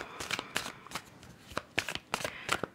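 Tarot cards shuffled by hand before a reading, a series of crisp riffling bursts and soft slaps in uneven rhythm, close and quiet, with no voices.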